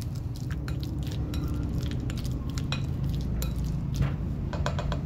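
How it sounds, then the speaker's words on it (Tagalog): Three ripe bananas mashed in a bowl with a utensil, repeated soft clinks and scrapes against the bowl in an irregular quick rhythm, close, over a steady low hum. "Sa bowl, maglagay lang tayo ng 3 hinog na saging. Tapos imamash natin."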